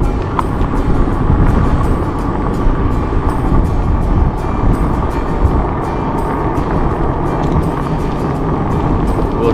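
An e-bike on fat tires with a front shock rides off-road along a trail by a pond, giving a steady rumbling roll with wind buffeting across the microphone and no break throughout.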